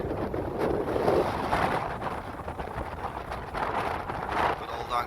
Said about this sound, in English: I think it's gonna be a windy one.